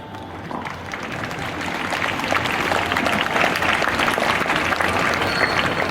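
An audience claps after a school youth parliament session, dense steady applause that swells within the first couple of seconds and holds loud and even, with a hint of crowd noise beneath.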